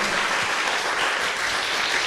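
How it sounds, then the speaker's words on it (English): Audience applause at the final presentations of a German-Brazilian EdTech hackathon, a steady wash of many hands clapping at once, dense and continuous for the whole stretch with no talk over it. "Clap your hands for a digital curriculum first."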